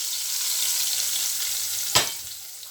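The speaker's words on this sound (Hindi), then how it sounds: "अब जो मैंने तेल गरम किया है ये डाल देंगे।" Hot oil poured over chickpea curry (Lahori chikar cholay) gives a steady close frying sizzle, then a sharp louder burst near the end as it hits, with no talk.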